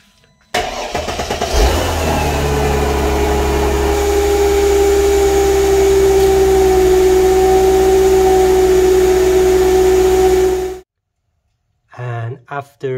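Mercedes R129/W209 engine cranks and catches, then idles steadily for several seconds with a droning whine before shutting off, followed by brief sounds after a moment of silence.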